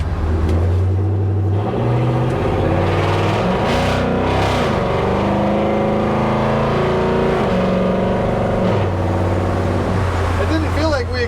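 Coyote V8-swapped, air-bagged Ford F100 pickup accelerating on the road, a loud, deep engine drone climbing through gear shifts, steady and close throughout, with people talking over it.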